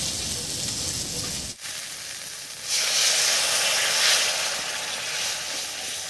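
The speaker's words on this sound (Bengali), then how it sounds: "এবার সামান্য একটু মশলা বাটা জল দিয়ে কষিয়ে নেব।" Ground spice paste thinned with water fries in a pan for a Bangladeshi dried-fish and potato curry. A close, steady hiss and sizzle runs throughout, with a brief knock early on and a louder sputtering surge midway.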